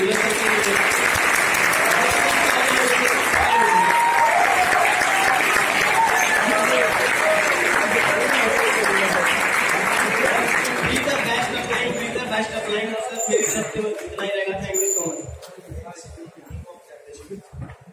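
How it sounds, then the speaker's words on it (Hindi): An audience gives loud, sustained applause for their teachers, a thick continuous clapping with crowd chatter and voices mixed in, tapering off toward the end as speech takes over. "जबरदस्त तालियां हमारे गुरुओं के लिए"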